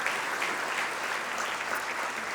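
A steady, full round of applause at an athletics hall of fame banquet, honoring the organizing committee; dense clapping from a large room, continuous and unbroken.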